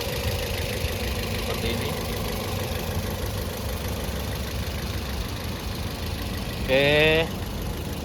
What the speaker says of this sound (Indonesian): Ya, suara mesinnya sudah ya. Kita akan matiin.